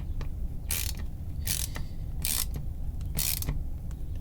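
A ratchet wrench tightens the nut on a guitar potentiometer during hardware installation, giving four short bursts of fine clicking at a steady pace, close and clear against quiet room noise.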